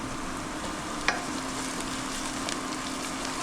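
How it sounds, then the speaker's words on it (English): Continuous close sizzle of garlic and cherry tomatoes frying in a pan, a steady crackling hiss with a few sharp pops and light stirring, no talk. "now we're gonna throw our garlic in there"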